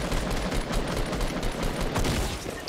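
Rapid in-game gunfire from Fortnite, a dense burst of overlapping shots sustained across the whole stretch, loud and close with no pauses or voices.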